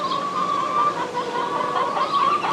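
Backyard chickens heard close by in a garden, a low steady murmur of clucking with a faint higher tone running through, fairly quiet and continuous.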